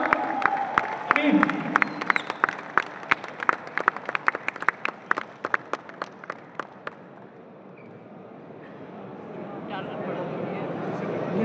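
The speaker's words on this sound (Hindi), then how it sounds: "इस अनाउंसमेंट के लिए तो तालियां बजती रहनी चाहिए।" Audience at a business launch event clapping in a steady rhythmic beat of loud, even claps for several seconds, then fading out into crowd murmur and a voice over the hall.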